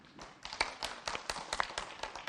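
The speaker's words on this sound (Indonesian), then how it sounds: "Tepuk tangannya mana?" Sparse, uneven hand claps from a small audience at an Islamic religious talk broadcast on television, a couple of seconds of separate slaps, fairly quiet and close with no voices.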